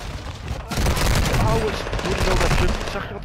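Hurricane SMG firing in Warzone 2, a loud, dense burst of rapid automatic gunfire that roars almost continuously for about two and a half seconds, close and dominant, with shooting from other weapons mixed in.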